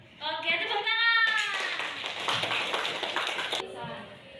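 A classroom of students claps together in a dense burst of many hands lasting about two seconds, preceded and followed by brief voices.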